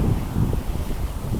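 Breezy outdoor wind during a nature walk, a steady rushing buffet against the microphone with no voices.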